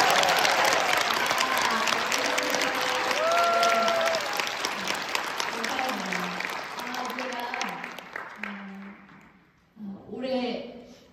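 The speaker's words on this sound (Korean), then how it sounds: "그 감동만큼 여러분 박수를 한번 쳐주면 어떨까요?" A seminar audience at a network-marketing talk breaks into dense applause that gradually thins and fades, with voices speaking over it as the clapping tails off near the end.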